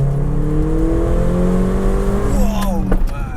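A Mercedes A45 AMG engine revs hard and climbs in pitch as it accelerates, loud and close, with a brief shift partway through.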